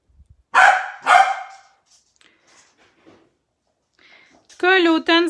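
Two loud dog barks close by, a short pause apart, followed by faint scattered sounds, then a brief whining yip near the end.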